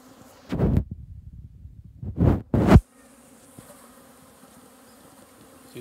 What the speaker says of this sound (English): the bees are already gathering up for this box